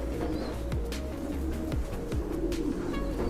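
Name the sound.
silver pigeon cooing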